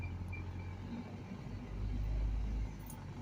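Steady low road rumble from a car cruising past an office park that used to be a mall, with engine and tire noise swelling slightly toward the end, no talking.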